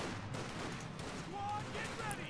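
Rifle squad gunfire in the Company of Heroes 2 video game, a steady crackle of shots under continuous game sound and narration, with a few brighter distant cracks.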